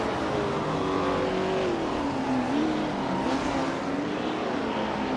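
Racing video game with a 1966 McLaren Elva Chevrolet among the field: a continuous, loud engine drone with a rising and falling pitch, steady throughout and with no voices.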